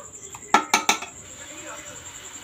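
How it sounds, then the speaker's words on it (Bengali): Metal spoon scraping and knocking inside a pot as chicken is stirred while sautéing for chicken kosha: three sharp clinks in quick succession near the start, then a quiet simmering background. "বন্ধুরা, চিকেনটা দিয়ে এবার কষাচ্ছি"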